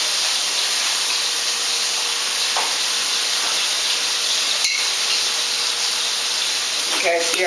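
Garlic sizzling in a hot pan, a steady broad hiss of frying that holds evenly throughout, with a couple of faint clinks near the end.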